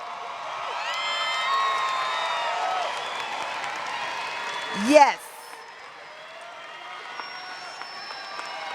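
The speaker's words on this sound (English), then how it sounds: "They deserve your applause." A crowd of families at a graduation for the Kathlyn Gilliam Collegiate Academy cheers, whoops and applauds, a loud surge that fades into lighter clapping, with a brief spoken word near the peak.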